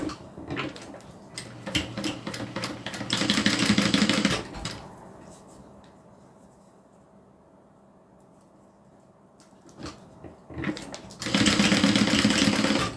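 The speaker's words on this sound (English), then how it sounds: "So I just bring them together, stitch them down." A sewing machine stitches fabric loops in two loud, close runs. Between them come a quieter stretch and a few handling clicks and thumps.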